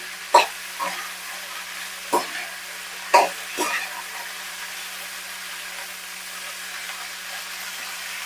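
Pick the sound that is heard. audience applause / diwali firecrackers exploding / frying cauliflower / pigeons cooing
frying cauliflower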